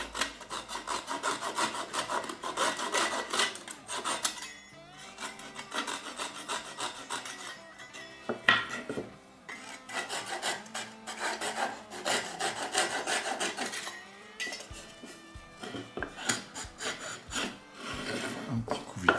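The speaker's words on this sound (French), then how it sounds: "Il nous reste juste à araser avec une scie à raser." A flush-cut saw trimming protruding wood flush on a through-neck guitar test piece, rapid rasping back-and-forth strokes in bursts with short pauses, close and fairly quiet.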